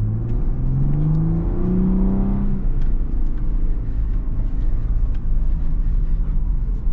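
A 2024 Ford Bronco Raptor's engine drones steadily while the truck bounces off-road over bumps at a little above walking pace, a continuous close rumble with rattling and knocking running through it and no talking.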